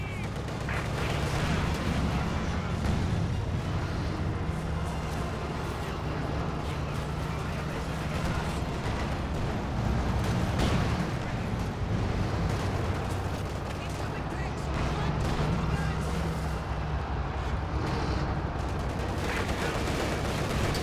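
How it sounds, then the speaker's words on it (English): Artillery fire from an 88mm cannon in a Company of Heroes 2 Soviet-versus-OKW match, loud repeated booms set in a dense, continuous battlefield din of gunfire and explosions, with a commentator's voice running underneath throughout. "Cannon Warfare is firing away, which is an 88mm"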